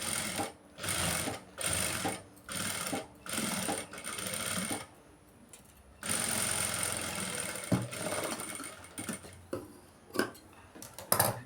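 A sewing machine stitches a blouse in repeated short bursts of a second or so, pausing between runs, then one longer continuous run with a few clacks near the end; close and fairly quiet, with no talking.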